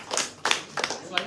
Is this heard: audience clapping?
yes